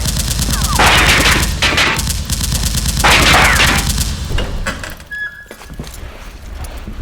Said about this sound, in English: the Fang masked cloak lady has opened fire